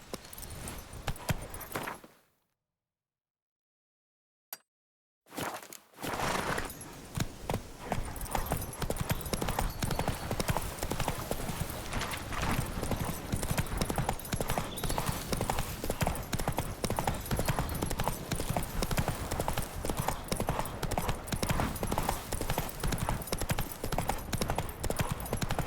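Hooves of Roach, Geralt's horse in the video game The Witcher 3, clip-clopping in a steady rhythm, loud and close, after a brief silent gap near the start, with game ambience running underneath.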